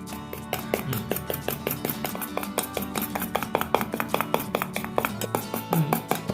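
Egg whites being whisked with sugar for a wheat flour cake, a steady rapid run of light clicking strokes against the bowl, close and continuous with no talking.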